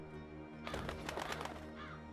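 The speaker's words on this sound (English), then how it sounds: "That filthy, chattering fowl must be over there somewhere." A chattering bird in the video game Dreamfall Chapters gives a short, faint burst of squawking calls lasting about a second, over quiet game ambience.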